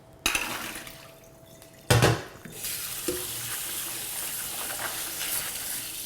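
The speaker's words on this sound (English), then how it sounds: "I'm going to drain them and rinse them." Soaked walnuts drained and rinsed in a kitchen sink, with a sudden splash and clatter as water pours out, then a steady rush of running tap water continuing close by without talk.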